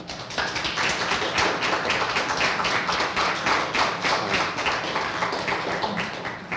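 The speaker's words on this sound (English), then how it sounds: "Let's give Mr. Jenner a round of applause" Dense, steady audience applause at a principal candidate community forum, many hands clapping in a continuous even patter at a consistent loud level with no talk.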